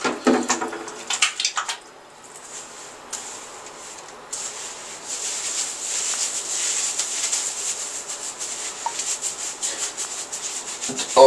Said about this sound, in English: the more you have to massage the shampoo into your scalp so that it can penetrate down